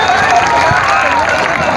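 Loud, steady applause from a large crowd at a wrestling bout during a four-day village fair, a dense continuous roar of clapping and cheering with a voice faintly underneath.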